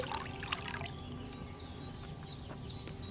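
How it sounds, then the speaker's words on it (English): In Kingdom Come: Deliverance II, wine trickles steadily from a pitcher into an alchemy cauldron, a soft continuous pour with faint dripping over a quiet room ambience. "you have to pour the right base into the cauldron"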